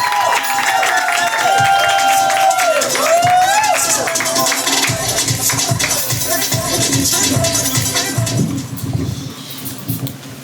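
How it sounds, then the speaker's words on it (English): Loud live crowd at a poetry show clapping and cheering as a poet is called to the stage, dense continuous applause with whoops and voices shouting over it throughout. "Y'all clap it up, clap it up."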